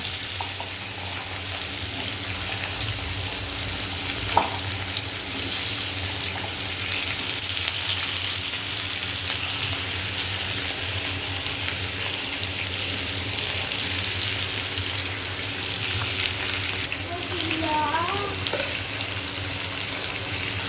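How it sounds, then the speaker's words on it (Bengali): Cut potato pieces, lightly salted, fry in hot oil for a small-fish dish, giving a steady, dense sizzle close by that runs throughout, with a faint clink and occasional stirring noises, and no talking. "এবার এই যে কেটে রাখা আলুগুলো ভেজে নেব মাছের জন্য।"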